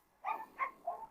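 Dogs including a Rottweiler, among dominant breeds being socialised together, give three short barks or yelps in a row, moderately close and clear against a quiet background.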